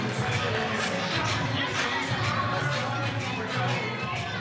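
A disapproving crowd at a wrestling championship match fills the arena with a dense, continuous roar of chatter and scattered shouts, steady and loud throughout without breaks.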